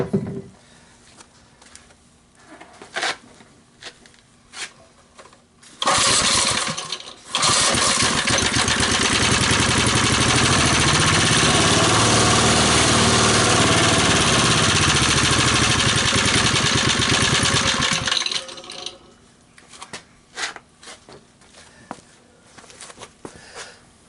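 A 3 hp Briggs and Stratton engine on an ARCO mini bike coughs on a pull, then catches and roars loudly and steadily for about twelve seconds before cutting out, with clatter and handling noises before and after.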